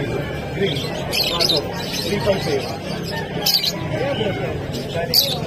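Many caged birds at the Malabon pet market chirp and tweet in a busy, crowded chorus, with sharp high calls poking through steady chatter of people talking nearby.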